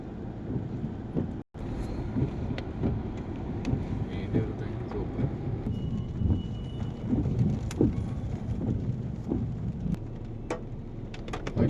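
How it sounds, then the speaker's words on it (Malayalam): Heavy rain pours steadily outdoors in an evening, with a dense continuous rush and patter close by, scattered sharp drips or splashes, and people talking intermittently over it. "മഴ ആയതുകൊണ്ട് ആള് കുറവാ, തിരക്ക് കുറവാ. നല്ല മഴ."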